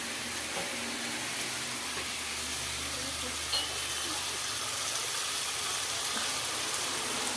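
Steady sizzling hiss as water is poured into a pan of frying rohu fish curry made from a large four-kilogram rui, continuous and fairly close, with no clear talk over it.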